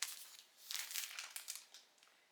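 A plastic zipper bag holding a bedspread crinkles as it is handled, soft crackling bursts coming in uneven clusters, close and fairly quiet with no talk.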